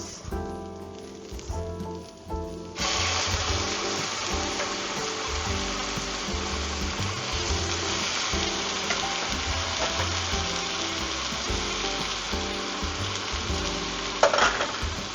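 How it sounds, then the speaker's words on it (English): Broth poured into a hot pan of Portuguese octopus rice with onions, garlic and wine, bursting into a loud, dense, continuous sizzle and bubble after a quieter start, with a brief clink near the end. "Okay, so now we're going to add in our broth."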